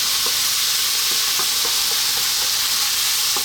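A chicken pasta mixture seasoned with salt and black pepper sizzles loudly in a pan as it gets a quick stir, with soft repeated scrapes of the utensil over a constant hiss and no speech.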